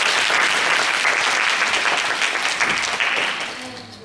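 A church congregation in Auckland applauds together in a dense, steady wash of many hands, loud and continuous before tapering off near the end.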